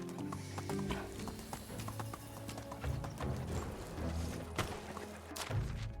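Donkey hooves clip-clopping in the Medieval Dynasty video game, a steady run of hollow thuds over a busy game soundscape, fairly close, with no talk.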